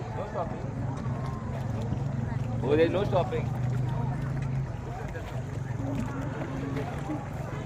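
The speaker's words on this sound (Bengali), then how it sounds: "আমরা এখন ডাউকি রিভারে বোটিং করছি।" Boat ride on the Dawki River, with a steady low engine drone and water rush throughout, while voices talk over it nearby.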